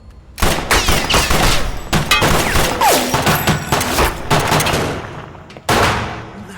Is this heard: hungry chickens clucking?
no